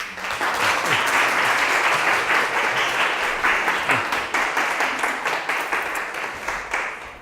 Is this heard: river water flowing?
no